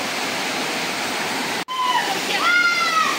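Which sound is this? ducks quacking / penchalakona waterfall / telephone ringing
penchalakona waterfall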